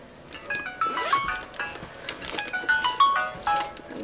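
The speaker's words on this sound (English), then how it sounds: "there goes my phone again" A phone's 9 o'clock alarm going off indoors, a repeating electronic melody of short tones heard alone, moderately loud and steady.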